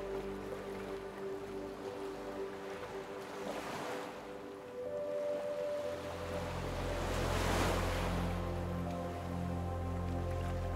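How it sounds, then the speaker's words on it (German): Ocean waves rushing onto a sandy beach, a continuous close wash of surf that swells and recedes in slow surges with a low steady roar underneath. "Das Rauschen der Wellen lockt dich."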